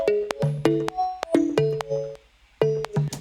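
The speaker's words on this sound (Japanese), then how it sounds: "これはこっちが言えばオーガニック系のプルックサウンドで、" Organic pluck synth from the Expand2 plugin plays short, bright, bell-like plucked notes in a bouncy rhythmic pattern, each decaying quickly, with a brief gap before the figure resumes; no voices.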